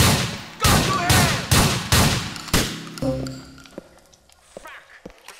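Gunfire in Grand Theft Auto IV, a rapid string of five or six loud close shots at an even pace, followed by fainter pings and scattered impacts as the shooting dies away.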